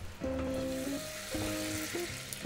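Honey and butter sizzle and crackle steadily in a hot pan, a soft constant frying hiss with occasional tonal clinks.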